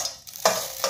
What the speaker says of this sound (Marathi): खसखस अशी थोडीशी भाजून घ्यायची आहे